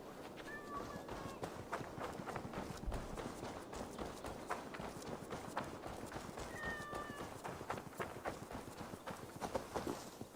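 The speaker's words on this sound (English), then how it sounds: "I never thought the meow of cats could soothe my soul." A cat meows twice in Assassin's Creed Valhalla, two short calls near the start and again around the middle, over a steady bed of clattering footsteps and game ambience.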